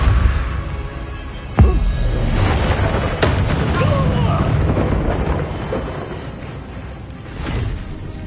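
Spell explosions in Hogwarts Legacy: a sharp booming blast rings out early, followed by more bursts and whooshing magic impacts over a dense, continuous bed of game combat noise and music.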